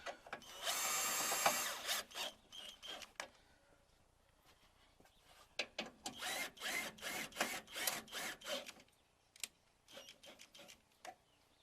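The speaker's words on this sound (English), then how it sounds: "And I already put in the 10mm screws, and just to tighten down." A power drill drives 10mm screws into the bumper of a 2004 Dodge Caravan. There is one long whir, then a series of short, close bursts with pauses between them, and no talking.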